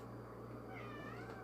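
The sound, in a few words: cat meowing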